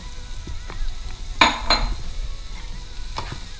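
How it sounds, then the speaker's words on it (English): Cauliflower lands in a hot pan already frying bacon, garlic and ginger, with sizzling, a few sharp utensil clinks and stirring scrapes against the pan. "Got our garlic, our ginger, our bacon, the whites of our green onions, and now we will add our cauliflower."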